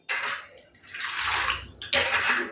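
Water swishing and splashing in a bowl as salt is stirred in for raw banana pakora, bursts of running, sloshing water with a brief lull in between, close and fairly loud.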